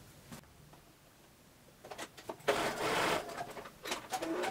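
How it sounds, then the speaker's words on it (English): A sewing machine stitches pockets onto a pair of men's pajama pants, its motor running in a steady burst of whirring at close range, starting quietly and rising to a louder, sustained run partway through. "we are going to stitch those pockets on right down"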